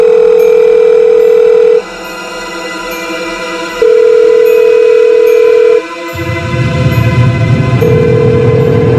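A telephone rings unanswered, repeating long steady tones separated by short pauses, loud and close, with a rumbling hum rising beneath the later tones.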